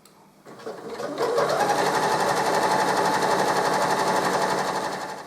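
A sewing machine with a ballpoint needle stitches stretch-fabric leggings body seams, starting up and running at a fast steady rhythmic chatter for several seconds, close and loud, then slowing at the end.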